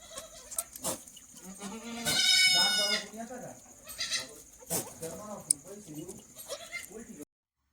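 Goats on a farm bleat several times, one long, loud nearby cry standing out, with people talking in between.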